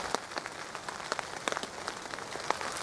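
Raindrops patter on a hammock tarp at a wild camp, scattered soft taps falling irregularly and close by with a steady wet hiss beneath, no voices.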